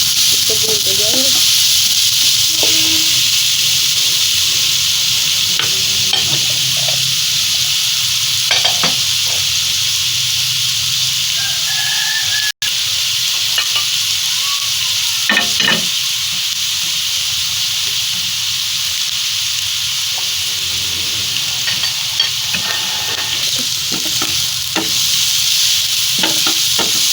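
Food sautéed and stirred in a pan during preparation of a carrot or vermicelli sweet dish with desi ghee, a steady loud sizzle with scattered scraping stir strokes throughout, no talking.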